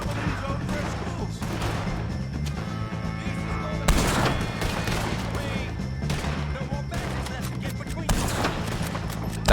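Rapid gunfire from a Red Dead Redemption shootout against O'Driscoll gang members, loud bursts of overlapping shots and volleys throughout, with a voice talking beneath the battle.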